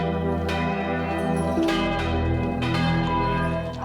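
Large church bells ring out loudly with rich, overlapping tones, several strikes sounding in succession and sustaining throughout.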